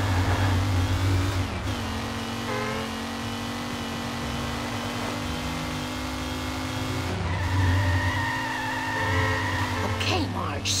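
A car in The Simpsons Hit & Run video game accelerating wildly, with a steady loud engine drone, shifting revs and tire squeals, under game music and character voices.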